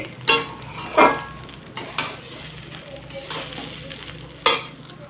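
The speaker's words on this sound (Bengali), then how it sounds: "আর এটাকে ভালোভাবে ভেজে নিচ্ছি" Chopped vegetables for khichuri sizzle steadily in a hot pot while a utensil scrapes and stirs them in a few sharp, irregular strokes.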